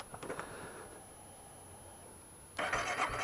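Fuel-injected motorcycle engine starting on a frosty minus 12 degree morning: a brief cranking stutter, a pause, then the engine catching and settling into a loud, steady idle up close.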